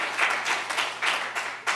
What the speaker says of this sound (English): You're getting a great round of applause.